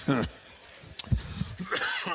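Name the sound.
cough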